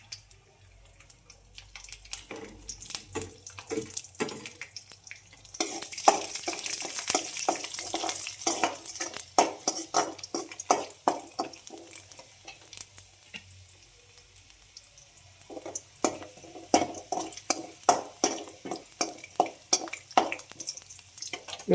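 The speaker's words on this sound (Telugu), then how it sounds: "ఆయిల్ కొద్దిగా హీట్ అవ్వనండి. జీలకర్ర వేసుకుందాం. తర్వాత తెల్లగడ్డలు అయితే వేసుకుందాం." Cumin seeds and garlic crackle and sizzle in hot oil in a pan, with a steady frying hiss and bursts of spattering, quiet and close, no voices.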